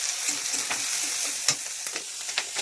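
Chilies fry in a pan with turmeric for pickle, a steady close hiss of oil broken by sharp crackles and the scrape of occasional stirring.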